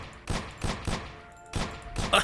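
Bursts of alien assault rifle gunfire in The God's Chain, arriving in about four separate volleys of rapid shots with short gaps between them, fairly loud over a steady game background.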